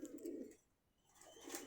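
Pigeons kept for sale at a bird market coo in two soft, rounded bursts, one near the start and one at the end, with a quiet gap between and no talk.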